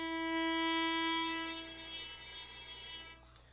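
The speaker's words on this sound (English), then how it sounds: "So sound gets more and more intense until it essentially hisses back at you." Viola bowed too close to the bridge, producing a single sustained bowed note with a thin, harsh, hissing tone that holds for about three seconds and then stops, close and quiet, no talking.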